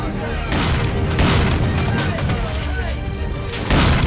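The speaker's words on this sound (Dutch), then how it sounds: "Jurre, vuur de kanonnen af." Ship cannons fire in the KingWars video game, a series of loud booming blasts in quick succession over constant battle noise. Players talk excitedly throughout.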